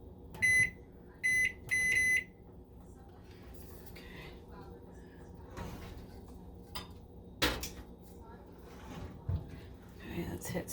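A kitchen timer gives three quick bursts of high electronic beeps at the start, followed by quiet clatter and handling noises in a room.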